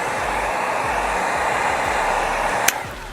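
A heat gun blows a steady, loud hiss of hot air onto chrome delete vinyl film on the front grille of a 2017-2020 Nissan Armada, running continuously close by and cutting off near the end.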